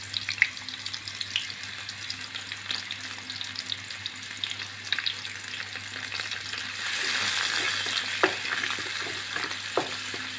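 Ginger, green chillies and curry leaves fry in hot oil in a pan for a Kerala olan, a close, steady crackling sizzle that swells louder in the latter half, with a few light stirring clinks and no talking.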